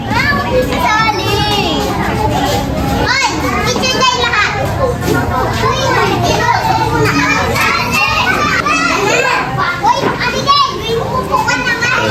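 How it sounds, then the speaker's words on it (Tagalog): A crowd of excited children shouts and chatters loudly and continuously at a fifth birthday party, a dense indoor din of young voices with an adult speaking over it. "medyo maingay at mga bata"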